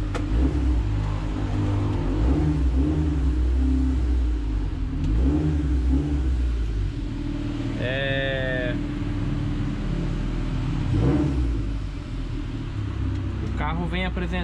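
A Honda Civic engine with a stalling fault idles and rumbles steadily close by, with a few rising revs, while a voice talks briefly over it.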